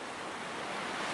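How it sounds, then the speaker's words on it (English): Steady broadband roar of sea waves breaking against cliffs, a continuous wash of surf with no distinct individual crashes and no voices. "Waves crash against the cliffs."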